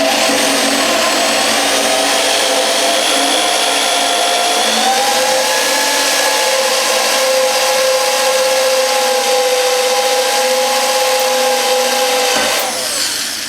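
A power drill with a spot weld cutter whines steadily as it cuts through steel at slow speed, a high sustained tone that holds for about twelve seconds before cutting off.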